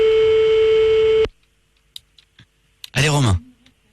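Telephone line during a call placed from a radio studio: a steady dial or busy tone holds for about a second, then stops, followed by a few faint clicks and a short burst of voice.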